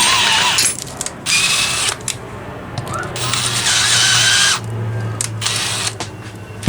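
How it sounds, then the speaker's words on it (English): A power drill whirs in bursts, stopping and restarting several times with a steady motor hum in between, close by and loud, while a stripped bit struggles to start during maintenance of a McCulloch Mini Mac 30 chainsaw. "To get this drill bit to start is a pain."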